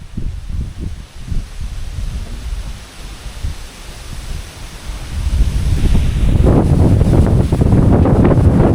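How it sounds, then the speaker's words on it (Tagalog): Strong wind buffets the microphone beside the sea on Burias Island, with surf rushing in and growing louder and more turbulent toward the end. "Mahangin talaga kasi dito"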